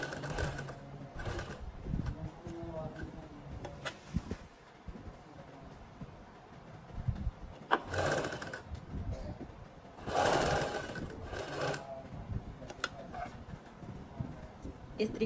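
Sewing machine stitching the neckline of a suit, short bursts of rapid mechanical whirring separated by pauses, close by, with some handling noise.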